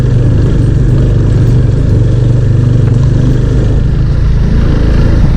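Motorcycle engine running steadily at close range while riding off-road with a pillion passenger on the way to Valparai, a continuous low rumble that stays loud and even throughout, with no talking.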